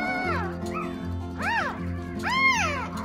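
Newborn West Highland White Terrier puppies squawk at each other in rising-and-falling squeals, several short cries spaced over a few seconds, close and fairly loud over a steady low hum.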